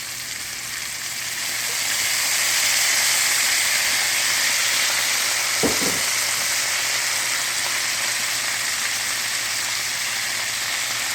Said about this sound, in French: Puis là, on va déglacer